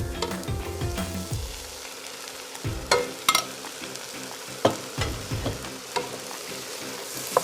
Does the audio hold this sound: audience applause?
no